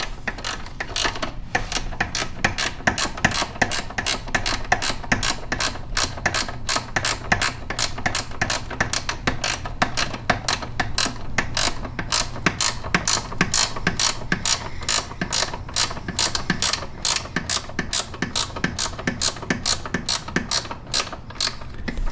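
Ratchet wrench tightening a bolt during a Jeep JL intake install, a long run of rapid, evenly spaced clicks close to the microphone, continuous and without talking.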